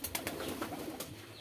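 Doves coo softly inside a pigeon house, a low murmuring call with a few brief brighter flutters or chirps, no talking.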